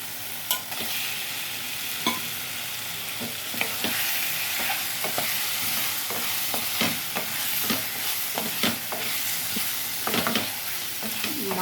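Boiled eggs stirred into frying masala in a pan, with a steady sizzle broken by repeated scraping strokes of a spoon through the sauce, close up and with no talking.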